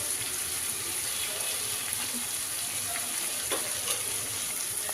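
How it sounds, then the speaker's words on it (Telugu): Onions and tomato paste fry in a pan with a steady, close sizzle and hiss that stays even throughout, with only faint occasional stirring clinks underneath. "దీన్ని కూడా మంచి ఫ్లేవర్ వచ్చేదాకా ఫ్రై చేసుకున్నాం."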